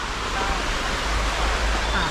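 The Sai Yok Noi waterfall in Kanchanaburi gives a steady, broad rush of falling water with a low rumble, continuous and fairly near.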